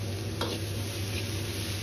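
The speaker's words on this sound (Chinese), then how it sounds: "一定要煎炒至杏鮑菇的表面稍微有點焦黃" King oyster mushrooms stir-fried in a pan give a soft, steady sizzle with a brief scrape of the spatula, fairly quiet and without speech.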